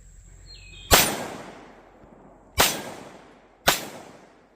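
A Canik TP9 Elite Combat 9mm pistol, fired after being dropped in mud and rinsed, lets off three loud, sharp shots spaced unevenly over a few seconds, each followed by a fading ring.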